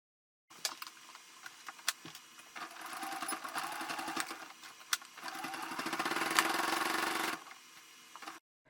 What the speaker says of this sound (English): then just pin or clip in place and then top stitch close to the edge along this